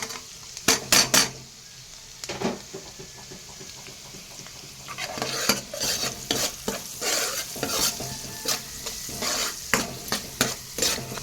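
Chopped onions fry and get stirred in a pan for soybean paratha, a steady sizzle broken by repeated scraping strokes of a spatula and clinks against the pan, close up with no talk.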